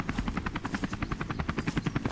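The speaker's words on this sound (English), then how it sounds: "Those are some pretty cool helicopters." Helicopters passing overhead in the survival video game Unturned, loud rapid rhythmic rotor thumping close by, steady and without speech.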